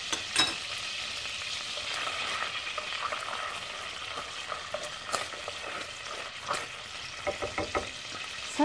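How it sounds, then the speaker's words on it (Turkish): Tomato paste frying in butter and extra virgin olive oil, a close crackling sizzle broken by frequent spoon taps and scrapes as it is stirred. "Bir kaşık salçamızı koyuyoruz. Salçamızı kavuralım biraz."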